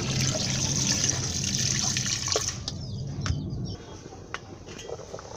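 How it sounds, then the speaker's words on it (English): Water is poured into a pot of cassava pieces being cooked for homemade edita-iwa. A close, steady trickling and splashing runs for a few seconds, then thins into scattered drips. No one speaks. "You need to add some water."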